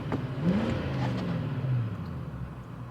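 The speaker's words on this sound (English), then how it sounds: "when you rev her, she goes" A 1997 Lexus LS400 with a stumbling engine and check-engine light revs up once, the engine note rising then holding and dipping over a few seconds, close and fairly loud with no talk.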